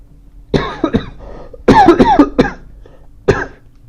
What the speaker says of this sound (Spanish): cortemos esa tosecita